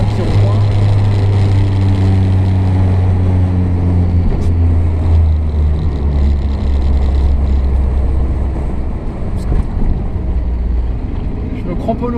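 A 1961 Renault 4CV drives around a roundabout, its small engine droning loud and steady up close, with the pitch easing and rising through the turn.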